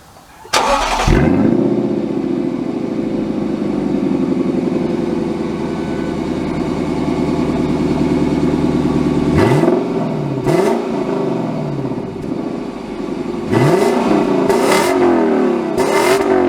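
A 2023 Lexus LC 500 engine fires up with a loud bark, then settles into a steady drone, with several sharp revving surges and accelerations later, close and unaccompanied by talk.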